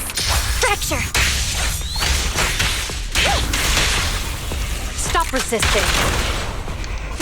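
Repeated bursts of enemy gunfire and weapon impacts in the action game Zenless Zone Zero, clustered shots mixed with whooshing swings and clanks, with an exasperated player's voice cutting in between the volleys.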